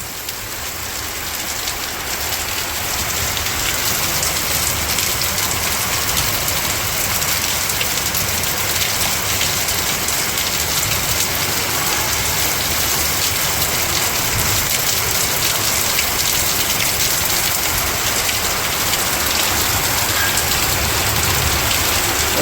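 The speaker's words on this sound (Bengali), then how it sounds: "বৃষ্টিও বড় বড় ফোঁটা পড়তেছে।" Heavy rain with large drops pours steadily in a Bangladeshi village on a dark, cold evening with lightning about, a dense continuous hiss and patter that stays loud and even throughout with no voices.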